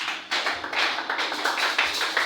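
A church congregation claps in acclamation, producing rapid, dense, overlapping hand claps that sound fairly close and continue steadily throughout.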